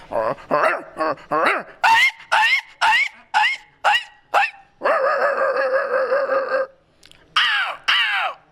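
A voice imitates a dog barking in a rapid string of yaps, then holds a long howling call, then barks twice more, loud and close.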